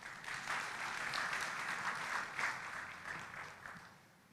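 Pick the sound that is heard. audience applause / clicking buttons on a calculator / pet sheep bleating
audience applause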